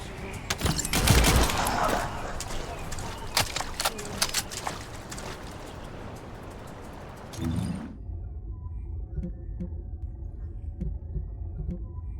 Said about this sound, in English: Just set off a few explosives